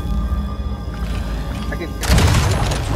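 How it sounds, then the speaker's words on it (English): A cannon fires in the video game Splitgate, a single heavy boom that bursts in about two seconds in and rumbles on to the end of the short clip, with game ambience before it. "Now I have a freaking cannon!"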